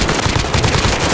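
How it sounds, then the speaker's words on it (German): Rapid energy-weapon fire from a warp cannon aimed at the player in a zombie video game set in a hospital, a dense, continuous burst of loud repeated shots. "Da greift mich jemand mit so einer Warp-Kanone an."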